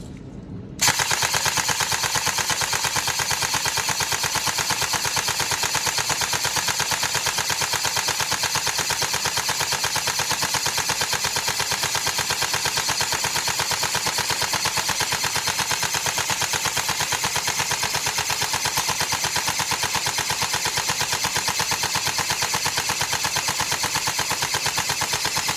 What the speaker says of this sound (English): just get a few rounds down range and just demonstrate it working